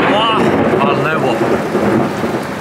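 A heavy thunderstorm with loud rolling thunder over steady rain, the rumble filling the whole stretch close and continuous without a break.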